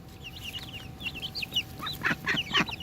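Sapphire Gem chickens cluck and chirp in a busy flock, with high peeping calls through the clip and a few louder squawks toward the end.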